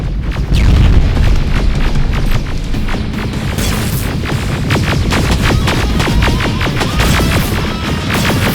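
A grenade explosion in the shooter Terminator Resistance: a loud boom near the start, then a sustained, chaotic din of impacts and combat noise that stays dense and close throughout.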